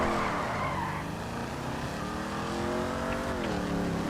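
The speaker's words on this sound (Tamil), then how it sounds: "சினிமேட்டிக் மோட்ல வச்சு நான் வண்டி ஓட்ட போகிறேன்" A car is driven in GTA 5 Online, with a continuous, loud engine roar and tire noise that hold steady throughout, the engine pitch shifting as it drives, and no talk over it.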